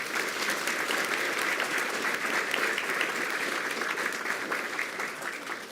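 An audience at a school board meeting applauds a student mathematics team, a steady, moderately distant wash of clapping that holds for several seconds.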